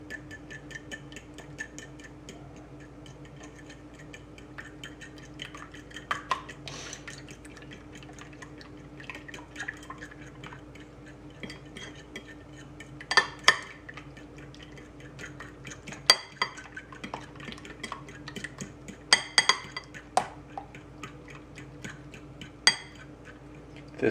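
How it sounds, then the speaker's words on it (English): Eggs, milk, cinnamon and vanilla are stirred together in a bowl for pain perdu, making faint, irregular clinks and ticks of utensil against bowl over a quiet room, with no talking. "Now it's time to stir the eggs and milk and cinnamon and vanilla all together."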